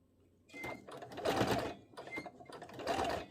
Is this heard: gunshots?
no